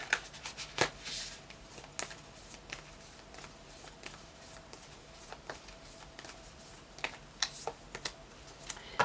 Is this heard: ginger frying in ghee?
no